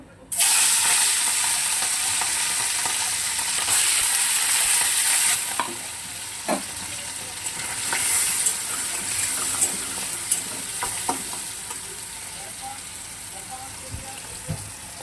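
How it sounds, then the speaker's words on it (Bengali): Cut prawns hit hot oil with a sudden loud burst of sizzling that roars for several seconds, then settles to a softer steady fry punctuated by occasional stirring taps. "এবার এই চিংড়ি মাছগুলো আমি ভেজে নেব"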